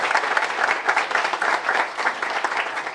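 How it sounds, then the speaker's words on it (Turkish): Audience at a Turkish political gathering applauds new young members, a continuous, even burst of many people clapping at moderate loudness for the whole stretch. "Kendinize kocaman bir alkış"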